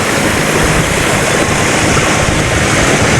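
A waterfall at a forest temple in Laos gives a loud, steady rushing roar of falling water with no pauses, close by and filling the whole scene.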